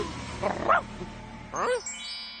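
A cartoon dog gives a couple of short yipping barks with a whimpering, pitch-bending tone, moderately loud against a quiet background.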